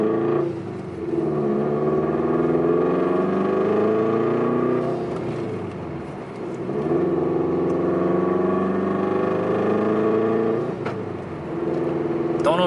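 A 2002 Subaru WRX wagon fitted with a Turbosmart Kompact Dual Port blow off valve, heard from inside the cabin with the AC on: a steady, loud engine drone that swells and briefly drops away several times as it shifts gears.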